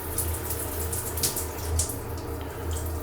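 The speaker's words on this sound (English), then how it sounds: "you just stand here and the water flows down the rocks" A weak shower in a tiny micro apartment runs down rock surfaces, giving a continuous, close, steady trickle and splash with no voices.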